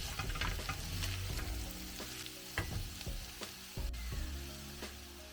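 Pork and cilantro stems fry in a pan with a soft, continuous sizzle, broken by occasional clacks and scrapes of stirring, with no one talking.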